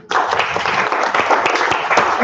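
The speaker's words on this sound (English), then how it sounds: "Let's give her another round of applause, please." Sustained audience applause from a crowd at an iHub event, dense steady clapping filling the whole stretch at even loudness, without a break.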